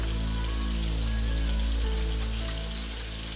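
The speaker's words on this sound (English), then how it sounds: "So let me wash my hands." Running tap water splashes steadily over hands being washed before cleaning chitterlings in a home kitchen, a continuous close hiss with a low hum beneath and no talking.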